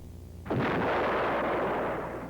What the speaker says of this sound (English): Note the small bright flash on the far right horizon as Cheyenne launches its missile